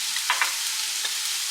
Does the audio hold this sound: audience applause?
no